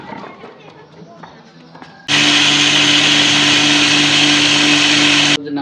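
A grinder machine grinding sabudana (sago) starts abruptly partway through, a loud, steady whirring roar that runs for about three seconds and then cuts off. Quieter rustling and handling noise come before it.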